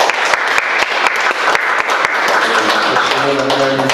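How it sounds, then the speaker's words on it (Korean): Church congregation applauding to welcome a guest pastor at a special revival service, dense loud clapping throughout with voices mixed in and some musical tones rising near the end. "우리 다 같이 박수로, 큰 박수로 모시겠습니다."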